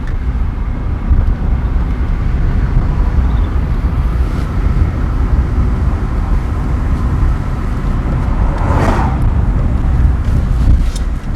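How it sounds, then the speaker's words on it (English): A car driving over a bumpy road near Mandeville, Manchester, Jamaica, with a loud, continuous low rumble of road and cabin noise, irregular jolts, and a brief hiss passing near the end. "So we're gonna now experience some bumpy rides"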